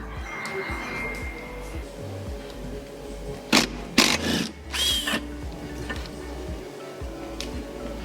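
Scattered clanks, scrapes and ratchet clicks from hand tools as the gearbox undercover comes off an Audi A6 with a mechatronic unit fault, with a few sharp louder metallic bursts midway and voices talking in the background.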